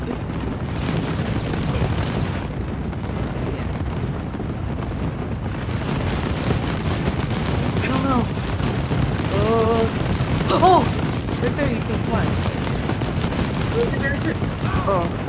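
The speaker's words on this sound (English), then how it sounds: "the explosions are quite loud" Red Dead Redemption 2 gameplay in Saint Denis fills with dense, continuous booming explosions and rumbling blasts, loud throughout, with voices talking over the din.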